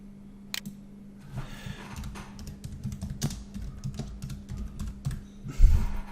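Someone types a comment on a computer keyboard, producing soft, irregular key clicks in quick bursts close by over a low steady hum.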